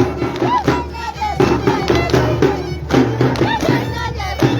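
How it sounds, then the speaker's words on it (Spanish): Zapateo foot-stomping dance in the Salcabamba style at a carnival street parade in Colcabamba, with dull stamps and thuds under a steady loud crowd murmur and voices. "Ahí está el zapateo al estilo de Salcabamba."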